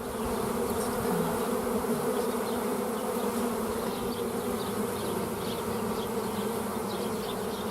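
Honey bees buzz around an open hive during a hive split, a dense, steady swarm drone that stays loud and continuous throughout, with no voices.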